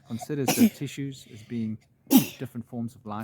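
Two sharp, sudden sneezes from a person break into a man's steady speech, each a loud burst amid the talking.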